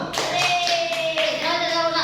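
A school class clapping hands together, a run of close, crisp claps in quick rhythm with a tonal voice or chant riding over them.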